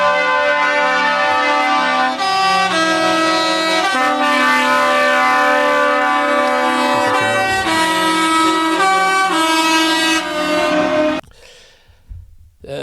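Truck horns from the Canadian trucker protest in Ottawa blare loudly and almost continuously, several sustained tones overlapping and shifting for about eleven seconds before cutting off abruptly, leaving faint background noise.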